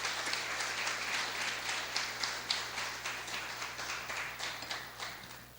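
A church congregation applauds at a couples' gathering, a steady, moderately distant wash of many clapping hands that holds evenly throughout.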